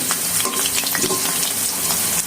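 Potato slices for homemade chips frying in a little oil give a dense, close crackling sizzle with busy popping and a few stirring scrapes, loud and unbroken throughout.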